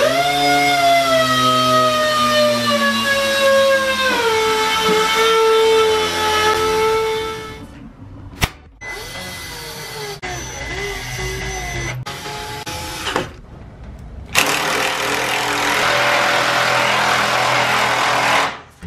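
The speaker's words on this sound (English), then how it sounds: "what I'm gonna do is take the sander and just hit this edge right here just to kind of clean that up a little bit" A power sander smoothing the edge of a car's front splitter, a loud whining electric motor winding up and down in several bursts with short pauses between, close.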